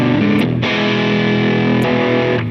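Electric guitar played through a Ruby UAFX pedal emulating a Vox AC30 amp, sustained, loud, overdriven chords with two brief pick-scrape changes between ringing strums, no voice.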